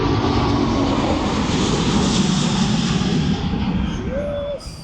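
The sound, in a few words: large aircraft flying overhead, likened to a B-2 bomber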